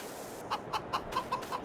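Chickens in the farming video game Farming Simulator 22 cluck softly in a quiet scene. Six short, evenly spaced clucks come one after another over a faint background hum.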